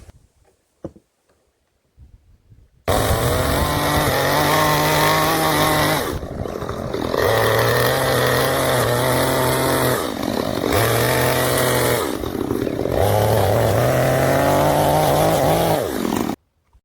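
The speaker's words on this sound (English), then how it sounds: "I just feathered the chainsaw over the top of it to clean it up." A chainsaw feathers across an oak slab, smoothing a hand-carved pizza peel; the engine snarls loud and close for about fourteen seconds, dipping briefly between passes and revving back up, with no talking.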